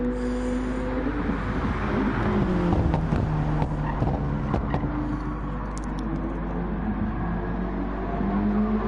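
Gran Turismo race car powering out of the final corner, its engine note climbing and shifting through gears with steady whining harmonics, loud and close throughout, no talk.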